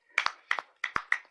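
Crisp finger snaps ring out alone in an uneven rhythm of close pairs, five or six sharp, near clicks with brief silences between them.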